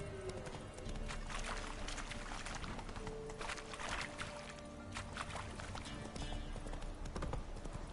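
Horse hooves galloping across terrain in The Witcher 3 video game, a steady rapid clatter running throughout with busy game ambience and splashy noise around it.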